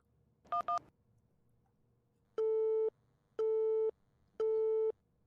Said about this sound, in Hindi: फोन लग ही नहीं रहा।